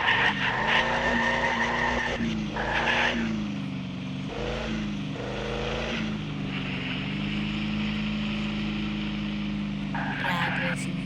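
Car tires squeal in a drag race in the Car For Sale Simulator video game, with a sustained loud screech and engine whine running throughout while voices talk over it.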